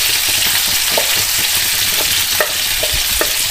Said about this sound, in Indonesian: Tumis sampai bawang putihnya benar-benar tercium harum